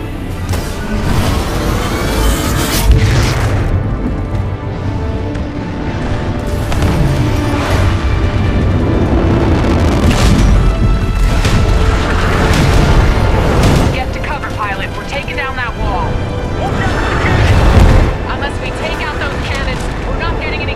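A Titan crashes down during a Titanfall 2 airbase mission: heavy booming impacts and rumbling under loud, continuous battle noise and radio-style voices speaking, with a second deep thud near the end.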